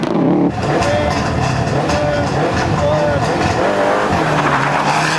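A Group N Subaru rally car with forest suspension tears through a forest stage in a 2002 rally, its engine roaring loud and close with gear changes and revs. A commentator talks over it throughout.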